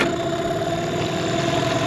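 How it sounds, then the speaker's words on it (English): A Mercury 15 hp outboard motor idles steadily at close range, a constant droning hum with a fixed pitch and no change in revs over the short stretch. "the motor is running as it's supposed to be"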